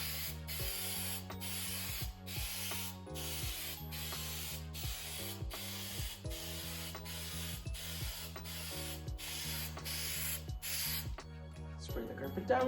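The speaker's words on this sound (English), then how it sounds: "Spray the carpet down and just roll it down and push it down with your hands" Steady rapid bursts of aerosol spray adhesive hissing onto carpet repeat over and over, close up, with a low hum underneath between the sprays, inside a truck topper camper.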